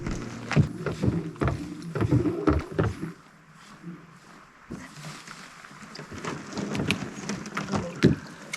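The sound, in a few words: boat moving on water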